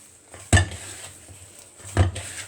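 Two sharp clanks of a utensil against a bowl while pancake batter is mixed by hand, separated by quiet scraping, close and moderately loud.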